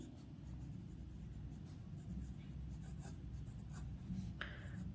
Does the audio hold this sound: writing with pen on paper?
yes